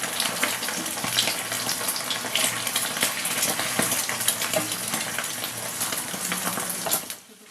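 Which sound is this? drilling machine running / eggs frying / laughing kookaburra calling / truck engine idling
eggs frying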